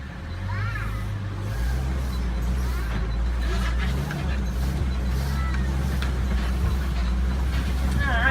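Disney Animal Kingdom safari truck rolls over a bumpy, potholed path, its low engine rumble steady and close with rattles and creaks, while people talk intermittently over the vehicle noise.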